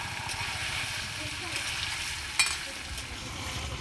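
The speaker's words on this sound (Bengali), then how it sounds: "এবার মাংসটা ভালো করে কষিয়ে নেব" Broiler chicken is sautéed in a pan with bay leaves and whole garam masala, making a continuous moderate sizzle with rhythmic stirring scrapes and one sharp utensil clack partway through.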